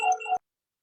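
A phone ringtone sounds briefly during a live online Q&A session: a short, bright melodic chime of a few tones that cuts off abruptly after under half a second, followed by silence.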